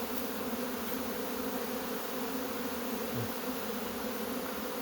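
Honey bees buzzing steadily around mini-nucleus hives, a dense, continuous hum of many insects at close range with no pauses and no voices.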